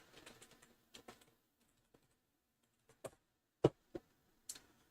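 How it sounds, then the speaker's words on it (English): Typing on a computer keyboard, a run of quick soft key taps followed by sparse, louder isolated keystrokes with pauses between them, close and with no talking. "Hate this fucking keyboard."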